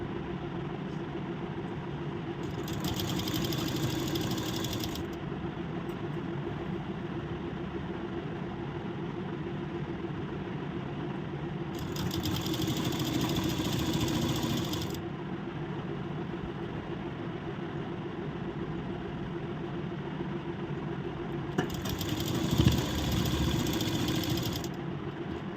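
A sewing machine stitching a blouse runs in a steady, close motor hum for several long stretches, with a brief bump near the end and no talk.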